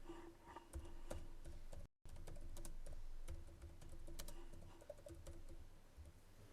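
Fingers type an account code on a computer keyboard in quick bursts of close, light clicking and tapping with a brief pause, heard alone in a quiet room.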